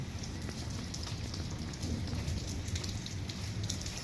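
Evening rain falls steadily on a village, a dense, even hiss of drops on surfaces with a low rumbling undertone, continuous and fairly close, with no voices.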